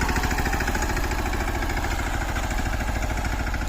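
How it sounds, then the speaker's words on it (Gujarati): A Mahindra Yuvraj 215 NXT tractor engine runs steadily at night with an even, rapid mid-pitched chug and no gaps, close and moderately loud. "તો ભાઈઓ આપણે ટ્રેક્ટર મહેન્દ્ર બસો પંદર યુવરાજનો લાઈવ ડેમો જોઈ રહ્યા છો તમે અત્યારે રાતમાં ટ્રેક્ટર હાલે છે"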